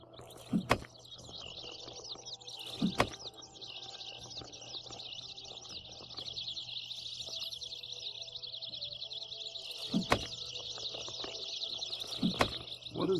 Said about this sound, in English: What is with all the birds?